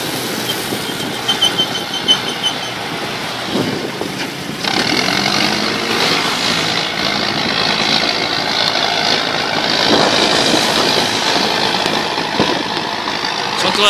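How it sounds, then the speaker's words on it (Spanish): A tractor engine runs nearby, a steady rumbling idle with knocking texture that swells louder partway through and stays continuous, with no talk over it. "Toma de este tractor."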